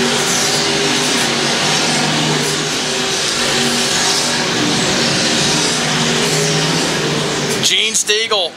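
Stock cars roaring around the I-35 Speedway dirt oval in a stock car division race, a loud sustained engine drone from the pack that cuts off abruptly near the end, with an announcer's voice running underneath.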